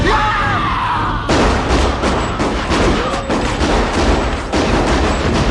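Gunfire from a Scream film scene in which a Ghostface killer is shot: loud, dense booming blasts with sharp onsets near the start and again later, over a continuous roar of film soundtrack noise.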